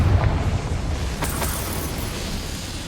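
The Confringo spell explodes in the Hogwarts Legacy video game: a loud, boomy burst with a rumbling low end, followed by a couple of sharp crackling pops as debris settles.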